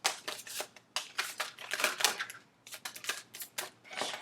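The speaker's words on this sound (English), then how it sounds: "Last shuffle." A tarot card deck being shuffled by hand, close and quiet, in repeated crisp riffling bursts separated by short pauses.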